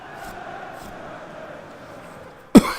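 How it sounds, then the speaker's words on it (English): A single sharp cough from a commentator with hay fever bursts out close to the microphone near the end, after a stretch of faint, steady stadium crowd murmur from a FIFA 19 match simulation. "I've got a bit of a cough, so my apologies for that"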